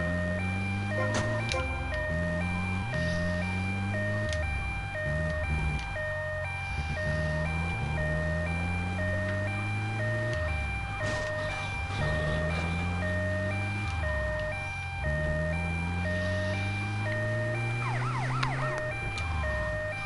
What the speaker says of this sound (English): It's not an ambulance siren, it's a boss siren.